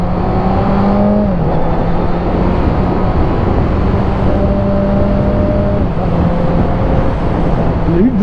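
A Honda CBR1000RR sport bike's engine drones loud and close, holding a steady pitch, then dipping as it shifts gear; no one speaks.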